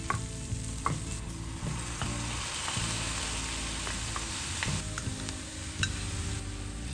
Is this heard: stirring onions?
yes